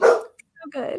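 A German Shepherd and Black Lab mix barks in short, loud bursts close by, with a brief gap between them and a person speaking around the barks.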